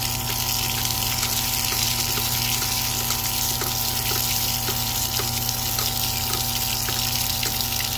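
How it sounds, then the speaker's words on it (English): Water drains out of a house's plumbing through an opened valve, producing a loud, steady rushing and gushing with a pump-like hum that continues unbroken and close by. "I want all the water to drain out from the house."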